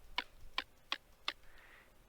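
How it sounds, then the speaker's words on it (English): Four sharp, evenly spaced clicks from a Minecraft note block placed on glass, bright and percussive like short ticks, each one brief and dry, followed by a faint fading tail; no voice. "Glass is your clicking sound."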